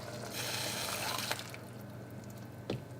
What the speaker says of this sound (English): we have to add some more from our meatball water